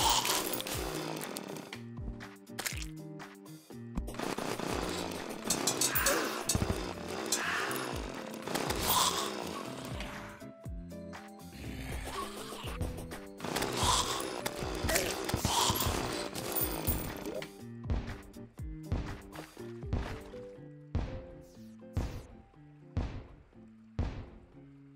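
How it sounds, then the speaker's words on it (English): Buzzing, revving chainsaw strokes from a player swinging a chainsaw in Terraria, choppy bursts with thuds and mechanical grinding, ending in a run of short rhythmic hits. "There's something somewhat entertaining about suddenly swinging around with my chainsaw being all like blah blah blah."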